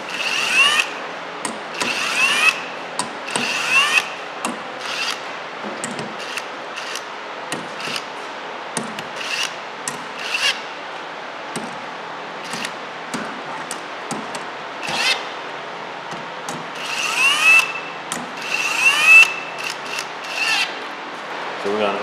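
Rocker arm bolts on a Dodge 4.7 engine are run down during a top-end rebuild, giving scattered short ratchet clicks and metallic tool sounds across a quiet garage.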